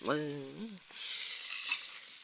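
Vegetables are stir-fried in a hot pan, giving a soft, steady sizzle that starts just after a brief voice at the beginning and continues to the end.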